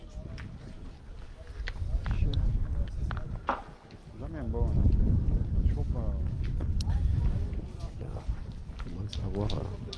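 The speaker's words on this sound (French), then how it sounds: "Oui, ouais, vous l'entendez bien le vent." Wind gusts blow across an outdoor pétanque ground in Saint-Tropez, producing a loud rumbling buffet on the microphone that swells and fades in waves, with people talking throughout.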